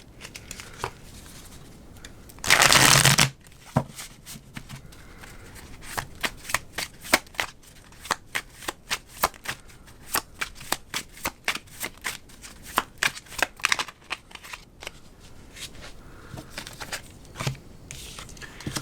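Situation and love message cards shuffled at length, a continuous stream of crisp flicks and riffles with one long burst of loud shuffling near the start.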